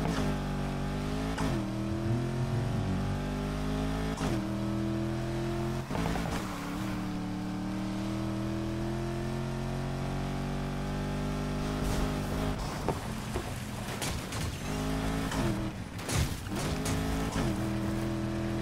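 Porsche Panamera driving in the racing video game Need for Speed Heat, a steady engine drone that rises and shifts in pitch with revving, continuous and fairly loud with some tire noise near the end.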